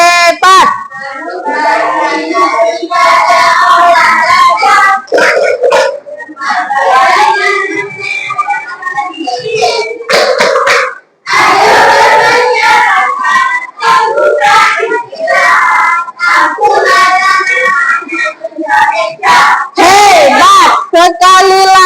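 A class of Indonesian schoolchildren claps in rhythm and loudly chants a group clap game in unison, with brief pauses between rounds and a teacher's voice leading the call.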